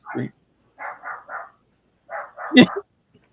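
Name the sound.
pet dog barking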